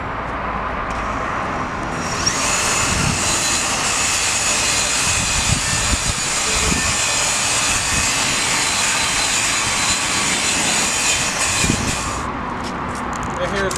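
A 3-inch 3M rubber finger abrasive wheel, 100 grit, spins at 3,800 RPM while cleaning a rusty vending machine rack, giving a loud, steady high-pitched whir and grinding hiss that runs nearly continuously, with brief rumbles and a drop-off near the end.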